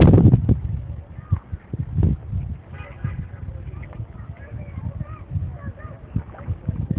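Ducks and geese at a large lake at Sarakina near Menidi give scattered faint quacks and honks at a distance, under close outdoor handling noise and people talking.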